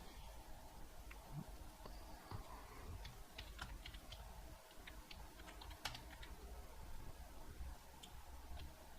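Keys on a computer keyboard tap faintly and irregularly in a quiet room, scattered soft clicks with short pauses between bursts.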